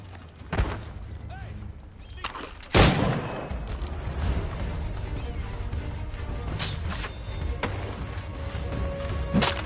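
Gunfire in Assassin's Creed 3 Remastered, sharp loud shots and volleys cracking out amid combat clatter, with a few spaced blasts over a busy battle background.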